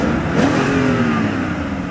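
The engine of a 2001 BMW 740Li revs loudly and close by, rising in a smooth surge and then holding a strong steady drone.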